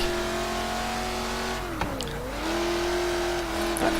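A car engine in Forza Horizon 3 with slow gearing, revving steadily, then dipping briefly as it shifts before climbing again, with a sustained mid-pitched engine drone throughout.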